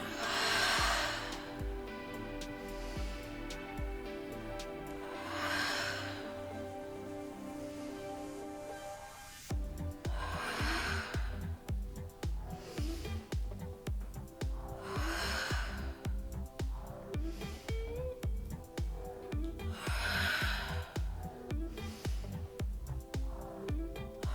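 Rhythmic breathing during a Pilates hundred exercise, heard as repeated forceful breaths in a regular cycle over steady background music, with no talking.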